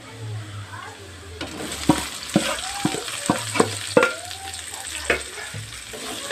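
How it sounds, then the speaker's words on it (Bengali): Onions fry in mustard oil with a steady sizzle, while a spoon stirs and knocks against the pan several times. A voice talks faintly underneath. "পেঁয়াজটা দিয়ে ভালো করে ভেজে নেবে"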